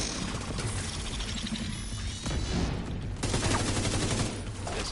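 Sustained video-game gunfire during a hectic firefight in The Division 2, a dense, continuous clatter of rapid shots with bursts swelling louder in places, no talking.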